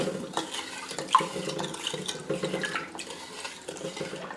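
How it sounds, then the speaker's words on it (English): Stirring pickling salt into ordinary tap water to make a brine, with steady swishing and light sloshing of liquid in a container, close and moderately loud, continuing without pause and with no talk. "I'll have to stir that until I'm sure the salt is all dissolved"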